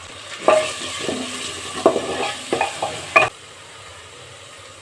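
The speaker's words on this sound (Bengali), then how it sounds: "আদা রসুনটা কিছুক্ষণ ভাজার পরে এখন এর মধ্যে দিয়ে দিব হলুদ গুঁড়া" Ginger and garlic frying in a pan with a few scraping stirs of a utensil, fairly close, then the sizzle continues quietly without stirring.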